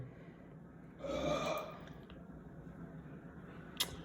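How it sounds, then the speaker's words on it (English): One loud, drawn-out belch rumbles for about half a second near the microphone, followed by quiet room noise and a brief click, with no talking over it. "Nice motivational belch, by the way."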